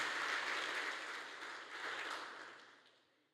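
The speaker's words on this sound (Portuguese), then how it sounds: "dê um aplauso bem forte ao Messias" Church congregation giving loud applause, a dense wash of many hands clapping at once, strongest at the start and gradually fading away toward the end.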